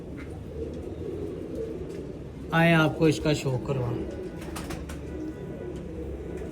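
Soft, low cooing of a five-tail pigeon runs in the background while someone speaks briefly in the middle.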